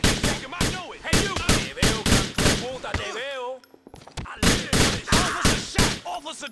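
Rapid gunfire in the video game GTA 4 during a cafe brawl with police, a dense run of sharp, loud shots in steady bursts, broken by a short lull, with shouting voices mixed in.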